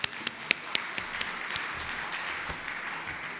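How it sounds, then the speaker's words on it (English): Conference attendees at a CFO event in the Middle East applaud to welcome a speaker, producing steady, moderately loud clapping throughout with a few sharper individual claps near the start, and no talking. "Let's all welcome him with a big round of applause"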